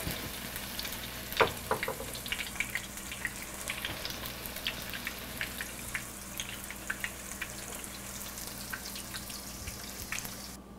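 Eggplant slices fry in a single layer of oil in a pan, a steady close sizzle with crackling pops and a few sharper spits and clinks throughout.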